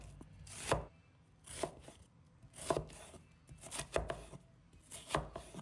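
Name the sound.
knife chopping onion into small pieces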